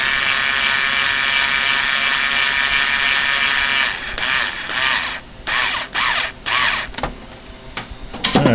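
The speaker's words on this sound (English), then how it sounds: "I'm putting the screw on" Screws driven in during a PC water cooling build on an ASRock Z170 board, heard as a steady close-up mechanical whir followed by several short separate bursts of turning and clicking.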